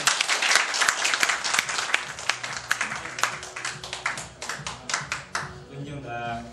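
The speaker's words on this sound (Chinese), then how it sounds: "掌声有请郭总上台致辞" Audience clapping at a business opening event as a company head is welcomed to the stage, a burst of many hands that thins into scattered claps, with talk underneath.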